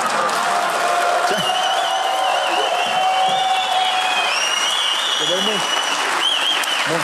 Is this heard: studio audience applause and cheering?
yes